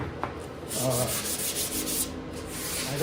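Sandpaper rubbing across a wooden artwork frame, a steady back-and-forth rasping scrape repeated in quick strokes at close range, with no talking.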